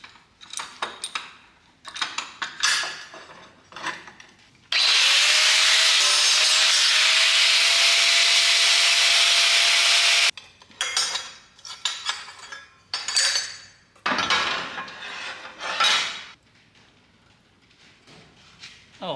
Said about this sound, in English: I'm gonna cut this leg off, and I'm gonna cut the heim joint bracket off